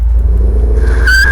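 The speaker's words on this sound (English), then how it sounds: "We're in second gear because this normally only uses 3 unless you hit the kick down." A car cruises in second gear and accelerates, its engine a steady low drone with a brief rising whine near the end, heard from inside the cabin with no talking.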